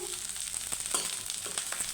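Raisins fry in oil with a soft, steady sizzle and faint scraping taps from stirring, fairly quiet and close.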